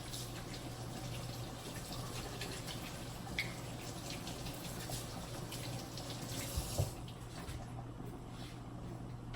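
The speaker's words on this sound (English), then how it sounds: "Just wash my hands really quick." Tap water runs steadily into a kitchen sink while hands are rinsed under it, a close, continuous splashing hiss with a few small clatters near the end.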